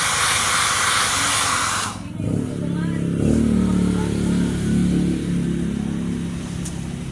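A blower dryer runs loudly for about two seconds with a broad airy hiss, then cuts to a lower droning motor rumble that continues to the end, with voices talking faintly in the background.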